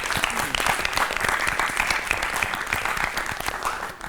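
Loud studio audience applause on a Hindi quiz show after a correct answer, dense continuous clapping from many people, steady and close for the whole stretch.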